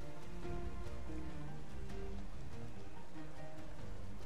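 Rain weather in a Pokémon VGC video game battle, a steady dense patter of falling rain with no voices over it.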